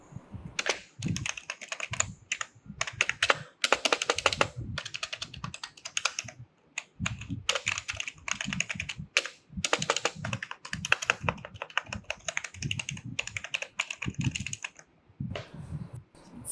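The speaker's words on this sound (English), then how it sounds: "This is my brand new keyboard, the Esports KM500W, a pro backlight gaming combo kit." Typing on an Ant Esports KM500W backlit budget gaming keyboard, a fast irregular patter of clicky keystrokes close up, with brief pauses between bursts and no voices.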